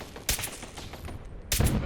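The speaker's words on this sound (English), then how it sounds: "Been a while since I needed that many shots to take down a turret." Gunfire aimed at a turret in the video game Fallout 4, with sharp loud shot bursts at the start and again near the end over a dense, continuous noisy game mix.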